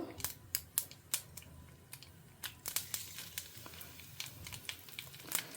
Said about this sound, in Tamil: கடுகு பொரியிற சத்தம் கேட்க ஆரம்பிச்சுடுத்து